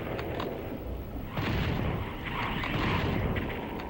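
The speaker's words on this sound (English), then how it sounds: "He's shooting like fireballs." Rumbling fireball blasts and booming explosions from the Nintendo 64 game Doom 64, a dense, continuous barrage with several louder bursts swelling in the middle, no talking.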